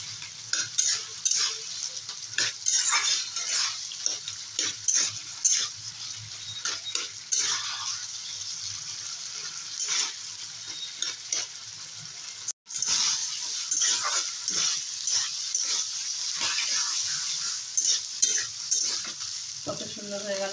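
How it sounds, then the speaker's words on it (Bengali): Pointed gourd curry being stirred in a pan, a steady run of scraping, clattering spoon strokes over a continuous hot sizzle, close and fairly loud throughout with no talking. "আমি এভাবে নাড়তেই থাকবো, না হলে সবজিটা ভালো হবে না।"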